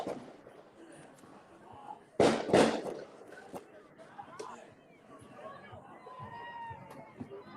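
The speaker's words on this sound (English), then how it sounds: "it sounds like there's some fireworks going off." Fireworks go off at a baseball championship celebration, with a pair of loud sharp bangs followed by scattered softer pops, under crowd chatter and a talking voice.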